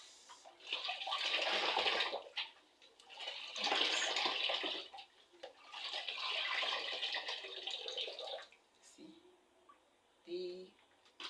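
Rice being washed by hand in water in a village kitchen, with swishing, sloshing bursts in three or four rhythmic rounds, close and moderately soft, and a brief voice near the end.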